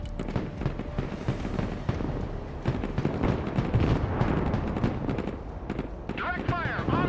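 MLRS rocket artillery firing in the video game Broken Arrow, a rapid, continuous series of loud blasts and launch whooshes layered over rumbling battle noise, with a radio-style voice speaking near the end.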